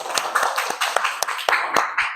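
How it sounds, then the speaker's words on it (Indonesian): A few people in a classroom clap their hands in a regular rhythm, about nine distinct claps spaced evenly, close and fairly loud. "Masya Allah, tepuk tangan dong."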